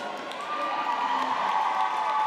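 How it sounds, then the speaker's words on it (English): Crowd at a roller derby bout during a EuroCup 2023 game in London, a sustained roar of cheering voices, loud and steady, with applause mixed into the din. "you can hear the crowd noises potentially"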